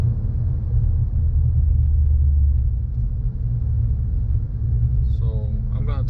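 Cadillac CTS-V on a test drive with its wheels spinning for lack of traction, engine held at high RPM as a loud, steady low rumble throughout, with a brief voice near the end.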